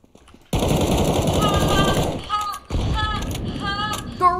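Rapid automatic gunfire in Counter-Strike: Global Offensive, a loud sustained burst that breaks briefly and resumes, with clicking weapon mechanics and short electronic tones layered on top.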